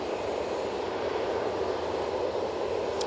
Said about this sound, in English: Next out, we have the TUI 737 in the plain Jane livery. This is going off to Naples.